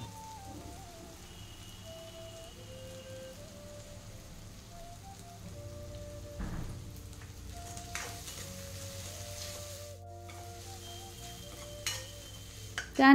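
Tomato, capsicum and onion fry in oil for pav bhaji, giving a faint, steady sizzle with occasional soft stirring sounds over a low background hum.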